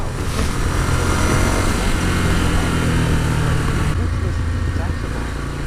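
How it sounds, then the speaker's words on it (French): Ducati Scrambler motorcycle with its stock exhaust, a steady, fairly loud engine drone that holds even throughout with a slight change partway, a voice talking over it. "le pot d'échappement d'origine, il est un peu discret"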